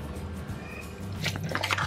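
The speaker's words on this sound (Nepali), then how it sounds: "अब यो माथि चाहिँ मनतातो पानी हजुरहरूले हालिदिनुहोस्" Lukewarm water poured over half-cooked sticky rice in a rice cooker: a faint liquid trickle that grows into louder splashing and gurgling toward the end, with no talking.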